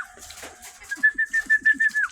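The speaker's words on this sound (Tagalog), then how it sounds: "Mga kalapati natin." Pigeons coo close by, a run of soft, low, pulsing notes repeating quickly, with a faint whistle-like tone above.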